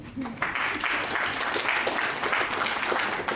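Audience at a policy dialogue on a national blockchain plan clapping together in a conference hall, a brief voice at the start, then steady sustained clapping.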